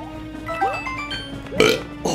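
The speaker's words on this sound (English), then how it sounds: "that was a good burp" Loud belches burst out during a Super Mario Bros. Wii play session, a few gulping croaks with the biggest one near the end, close and clear with no talk over them.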